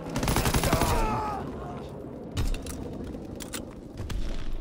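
Tommy gun fire in a WWII-style shooter game, a short burst near the start followed by scattered distant shots and a clanking mechanism, with a voice talking over it.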